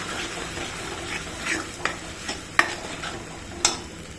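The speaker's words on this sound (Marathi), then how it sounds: "हे बघा असं छान मिक्स करून घ्यायचं" A peanut, coconut and sesame paste mixture is stirred in a pan, with a soft continuous sizzle and a few sharp spoon taps and scrapes against the metal, close and quiet.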